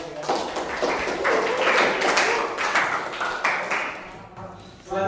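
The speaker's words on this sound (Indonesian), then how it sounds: "Tepuk tangan sekali lagi ya." A classroom of students claps together in dense, loud applause that holds steady for several seconds before thinning out and fading near the end.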